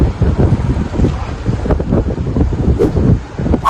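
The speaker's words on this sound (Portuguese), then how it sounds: "Ventando muito." Strong wind gusts buffet the microphone at a cold, windy gas station in America while a car is being refueled, a continuous loud rumbling roar with no speech.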